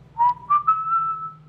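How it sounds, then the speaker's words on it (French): Someone whistles a short tune over a two-way radio, a few rising notes then a long sustained tone, clear and fairly loud above a low steady hum. "tu peux éviter de siffler dans la radio, s'il te plaît?"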